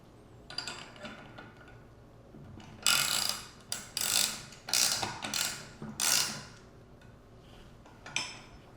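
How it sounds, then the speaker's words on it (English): Two 16mm wrenches working a nut down onto a bike fork, giving a series of close metallic ratcheting and scraping bursts in uneven clusters with short pauses between them, no talk. "Go ahead and grab your two 16mm wrenches."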